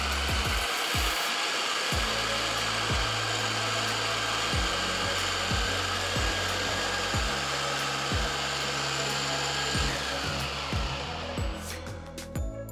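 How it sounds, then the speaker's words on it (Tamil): An electric juicer squeezes fresh oranges with a steady motorized whir, interrupted by repeated rhythmic grinding and scraping as the fruit is pressed. The sound is close and continuous, easing off near the end. "இன்றைக்கி நான் எலக்ட்ரிக் ஜூஸரை யூஸ் பண்ணுறேன்."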